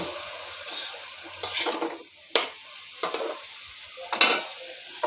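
Vegetables with added salt are stirred in a pan while making lau pata jhol, a bottle gourd leaf curry, producing a series of about six sharp spatula scrapes and clatters over a soft, steady sizzle.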